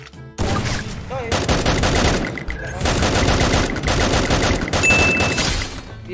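Sustained automatic gunfire in a shooting video game, loud dense bursts firing almost continuously with a brief pause, close and aggressive over game effects.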